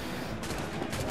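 Gunfire in a naval battle in Assassin's Creed IV: Black Flag, with a dense, loud, continuous crackle of shots that surges in bursts throughout.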